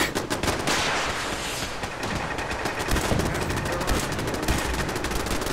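Defensive turrets in Fallout 4 fire rapid, continuous bursts of automatic gunfire, a dense and loud rattle of shots that carries steadily through the whole stretch with little pause.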